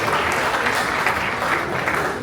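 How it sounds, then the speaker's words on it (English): A banquet crowd at a benefit gala applauds continuously, a dense, even stream of many clapping hands with no pauses. "So let's give a big round of applause to two living"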